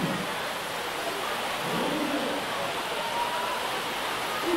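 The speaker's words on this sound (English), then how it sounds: "You can almost hear the rain just pouncing on the roof at the moment." Rain pounding on a roof over a primary school athletics track meet, a steady, dense hiss of falling water that stays even and fairly loud from start to finish.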